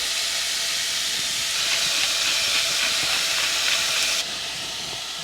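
Pork for kimchi jjigae sizzles loudly in a hot pot, a steady close hiss that drops slightly near the end.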